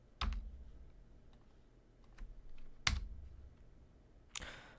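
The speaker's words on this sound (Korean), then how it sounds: "다시 ESC를 누릅니다." Isolated key presses on a computer keyboard while drawing in geometry software, a few sharp, moderately close clicks separated by quiet pauses, with no talking.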